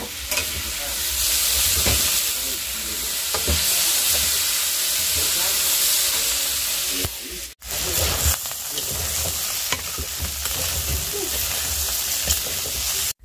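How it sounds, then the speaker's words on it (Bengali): Potatoes fry in a pan on a home stove at night. Loud, continuous sizzling runs throughout, broken by stirring and scraping, with a brief drop in sound about halfway through. "আলু ভাজা করে নিচ্ছি।"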